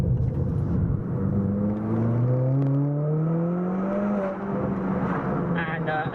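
A tuned Ford Fiesta ST with a Stage 4 Revo turbo engine revs loud and close, its pitch sweeping up and down in long whining pulls, with a brief crackle near the end.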